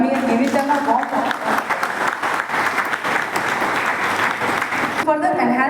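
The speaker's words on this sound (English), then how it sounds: "May I request everyone to join me in giving them a warm applause." Warm, sustained applause from an audience at an Onam celebration held by a ship repair unit in Sri Vijaya Puram, a dense steady roar of many hands for the invited guests, with a voice rising near the end.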